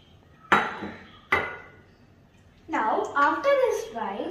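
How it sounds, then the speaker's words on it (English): Two sharp clinks as decorative sand, seashells and glitter drop into a glass candle jar, each crisp and close, followed by a person talking. "So now I am going to be putting the decorative sand, the seashells, glitter and the other bit of sand in the candle jar."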